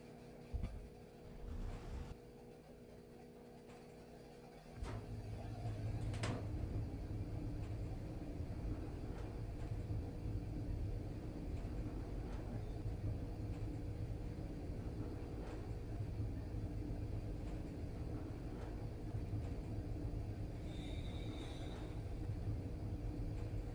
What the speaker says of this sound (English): now we are going to ride the elevator at Macy's. And this is a Westinghouse.